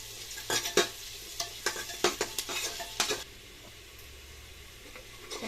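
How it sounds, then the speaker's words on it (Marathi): Onions fry in a pan for a green-chili chicken curry, steady sizzling broken by a series of sharp scraping spatula strokes against the pan over the first three seconds, then a quieter sizzle alone, close up, without speech. "कांदा चांगला परतून द्यायचा आपल्याला कांदा थोडा लालसर झाला की मग आपल्याला टोमॅटो टाकायचा आहे"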